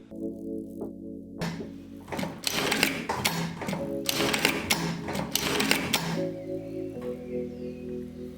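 A Jack A4E electronic industrial straight-stitch sewing machine stitches in a dense rapid rattle, starting after a quiet pause, running in bursts with brief stops, then dropping back to a steady motor hum.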